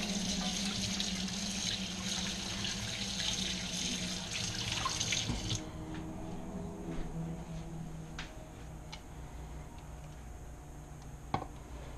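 Tap water runs and splashes into a sink while rinsing out a measuring jar used for mayonnaise, a steady close hiss that cuts off partway, leaving quiet drips and small clinks.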